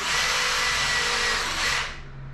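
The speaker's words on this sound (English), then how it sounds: "Drill a hole in it." A power drill whines steadily and loudly for about two seconds while drilling a hole in wood, then cuts off, leaving a low hum.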